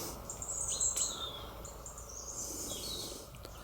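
A flock of birds, including crows, magpies, blackbirds and many small birds, feeding together outdoors on cooked potato, with faint high chirps and tweets scattered over a soft outdoor background.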